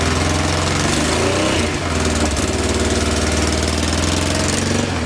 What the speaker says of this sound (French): la moto a démarré